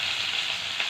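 Mustard seeds and curry leaves crackle in hot oil as a tempering for a spicy radish and capsicum masala, giving a short, steady, fairly close sizzle with no voices.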